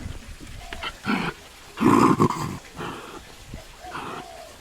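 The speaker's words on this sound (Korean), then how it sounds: "진짜 강아지랑 고양이랑 노는 거 완전 다른데" A dog growls and snarls in short bursts while playing with a cat, the rough throaty sounds rising and falling close by with brief pauses between them.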